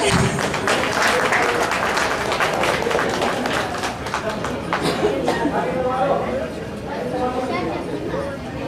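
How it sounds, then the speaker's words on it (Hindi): An audience claps to welcome a performer onto the stage, a dense, continuous patter of many hands lasting several seconds with voices talking over it, easing slightly toward the end. "कृपया तालियों से स्वागत करिए।"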